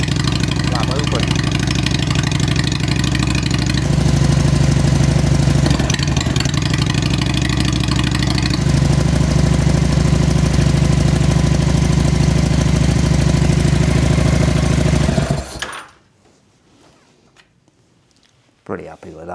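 A Honda Shadow bobber motorcycle engine idles with its exhaust flap open, a loud, steady rumble that runs for about fifteen seconds and then cuts off abruptly, leaving near silence.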